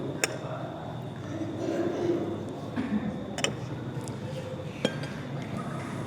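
Faint clinks of a drinking glass tapping against a hard surface, a few scattered over a soft background hum, close by and light.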